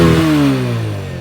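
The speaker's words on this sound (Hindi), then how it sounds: "और थोड़ा सा मैं यहाँ पर अब इसके थ्रॉटल को बढ़ाता हूँ" Close, loud engine note from a TVS Apache RTR 160 motorcycle as the throttle is raised, a brief revving sound whose pitch slides and fades within about a second, with no talk over it.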